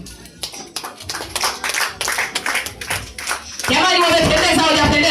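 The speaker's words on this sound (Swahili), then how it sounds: "tuwachapie makofi na vigelegele watoto" An audience at a children's church event claps in uneven bursts, and a louder sustained tonal sound takes over near the end.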